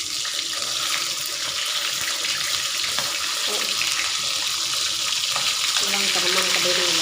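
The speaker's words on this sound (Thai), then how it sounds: "ทอดจนกว่ามันสีเหลืองสุก" Fish deep-frying in hot oil for a Lao-style meal gives a steady, dense sizzle and crackle throughout, with faint clinks and stirring sounds near the end.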